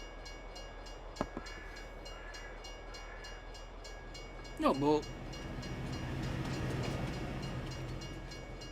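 A train rolls past in a farming video game, a low steady rumble building under talk, with a short horn-like tonal blast midway.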